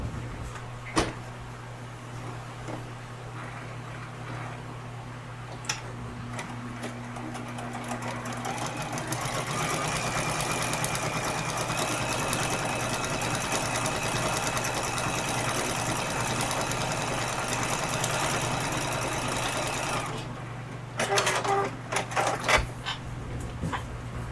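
A sewing machine stitches a quilt seam, a steady whirring hum that builds and runs continuously for about ten seconds before stopping, followed by a few clicks and handling knocks.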